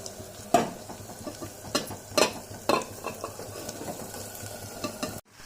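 A spoon scrapes and stirs spices into fried onions in a cooking pan for a curry. The scraping comes in several distinct strokes over a soft, steady sizzle, close and fairly quiet, with no talking.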